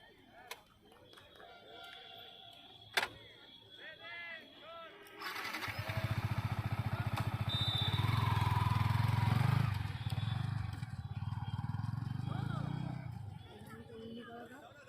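A Yamaha MT15 motorcycle with a modified swingarm has its engine started about midway through, then idles and revs in a loud, steady rumble that fades toward the end, with faint voices in the background.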